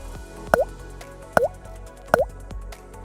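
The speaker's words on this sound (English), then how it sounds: "Simply pour the cleaner into the gas tank." Catalytic converter cleaner goes into a car's gas tank as three separate liquid plops at a slow, even pace, each a short drip-like splash, close and clear against quiet background.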